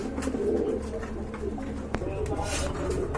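Lahori Shirazi pigeons with feathered feet cooing in a loft of pigeons for sale, soft low coos mixed with someone talking and background noise, one sharp click partway through.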